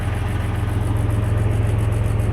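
A tractor runs steadily to drive the hydraulics of a Vermeer R2300 rake, giving a constant low, throbbing engine drone with a rhythmic pulse, close and loud with no talking.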